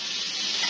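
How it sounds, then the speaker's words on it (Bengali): Fish sizzles steadily in a hot frying pan, a dense continuous hiss of oil crackling close by with no pauses and no voices. "মাছ ফ্রাই হচ্ছে"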